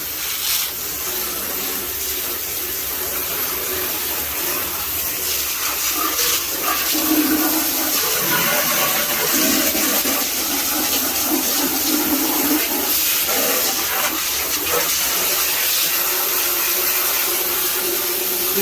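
Water splashing and running steadily while a chicken coop is rinsed out on a small homestead, a continuous close gushing wash with scraping rubs, no talking.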